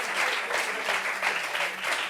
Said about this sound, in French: Applaudissements pour Jules Legault